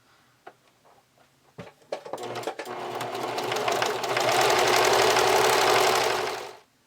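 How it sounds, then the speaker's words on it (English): A sewing machine starts with a few clicks and short bursts, then runs into a fast, steady multi-step zigzag stitch through stretchy elastic before stopping abruptly. "use a zigzag stitch to stitch it in place"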